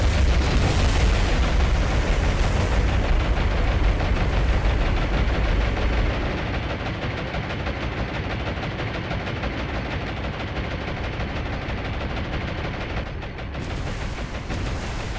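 Naval gunfire in the video game War on the Sea during an attack on a battleship: dense, continuous booming artillery and rapid gunfire, loud and heavy at first, then a steady roar of shots and explosions.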